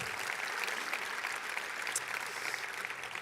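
A conference audience at JuliaCon 2024 claps and cheers for the event's sponsors, with dense, steady applause filling the whole stretch and no voice breaking through.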